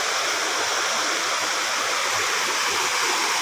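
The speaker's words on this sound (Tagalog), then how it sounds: "sapa" A stream running beside a waterfall, a steady, dense rush of flowing water close to the microphone with no pauses or voices.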